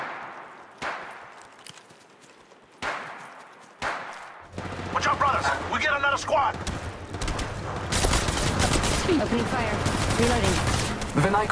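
Gunfire in the mobile battle royale Apex Legends Mobile starts as a few spaced single shots, then breaks into dense, loud bursts of rapid automatic fire with a voice talking between the volleys.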